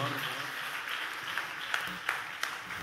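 A church congregation applauds, a diffuse wash of clapping mixed with crowd voices and murmuring, with a few sharper claps standing out near the end.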